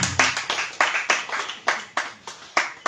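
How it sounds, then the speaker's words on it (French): Church congregation clapping in a steady, rhythmic beat, about four claps per second, loud and close, with no voices over it. "on acclame le Seigneur pour la vie d'Esther"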